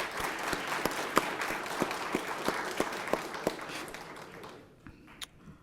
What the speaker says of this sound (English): Can we give another round of applause for our graduates?